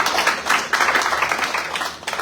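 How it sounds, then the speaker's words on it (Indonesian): A church congregation claps during a sermon. The applause is loud and close, with dense irregular claps that swell and dip over about two seconds. "Berikan tepuk tangan untuk Tuhan."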